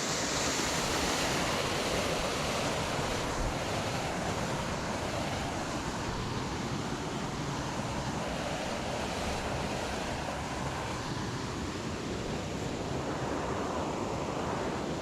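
Waterfall at Davidson's Linn pouring steadily, a loud, continuous broadband rush heard up close with no voices, the roar holding even throughout.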